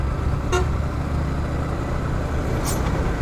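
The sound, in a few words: diesel engine vehicle passing on road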